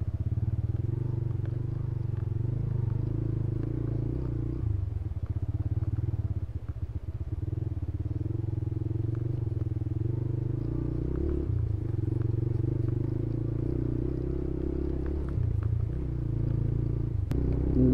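A sport naked motorcycle rides along a road, its engine droning steadily and loudly throughout with a low rumbling tone and occasional clattering bumps.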